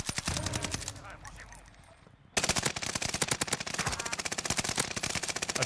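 Rapid automatic gunfire in Call of Duty Warzone on the Fortune's Keep map, with long fast bursts of shots, close and loud, after a quieter stretch of softer firing.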